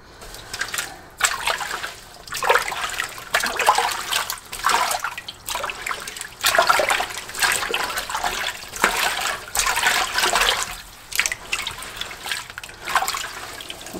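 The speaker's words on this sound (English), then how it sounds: "So next I'm going to give them a good wash, pick out" Freshly picked beans being rinsed in a sink, water splashing and swishing in uneven bursts as the beans are stirred and handled, fairly quiet and close.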